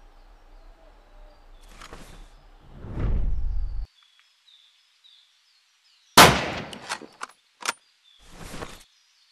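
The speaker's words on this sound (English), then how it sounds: "shoot the animal" A single sharp rifle shot at an animal in Hunting Simulator, loud and abrupt, followed by a few quick clicks and mechanical clatter as the bolt action is worked, with no talking.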